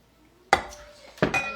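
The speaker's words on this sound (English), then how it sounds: "I am going to attempt to mix it up a little bit." A spoon clinks against a pot of corn chowder being stirred, two sharp metallic knocks about a second apart with brief ringing, fairly close and loud.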